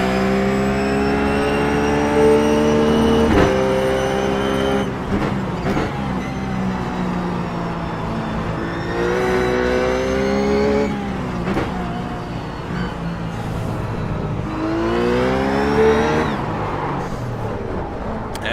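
A Ruf GT3 race car engine in iRacing laps Silverstone, revving hard with rising harmonic sweeps as it accelerates out of corners, dropping on downshifts, then climbing again. It stays loud and steady, with no talk over it.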